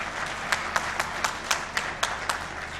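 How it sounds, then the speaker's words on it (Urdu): An audience claps at a government ceremony addressed by Punjab's Chief Minister, a fairly close, moderately loud patter of hands with sharp claps landing in a steady, roughly even rhythm, without voices. "ہاں تالی بجا کے دکھاؤ"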